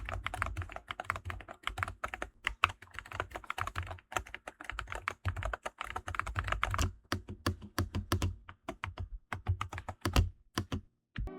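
Typing on an Attack Shark X68 HE keyboard with linear magnetic Hall Effect switches, rapid close-up clacking in fast irregular bursts with brief pauses, alone with no talk.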